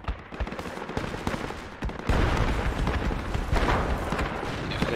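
Machine guns shoot during Project Reality combat, with rapid close bursts of automatic fire that grow louder and denser midway over a rumbling battlefield background.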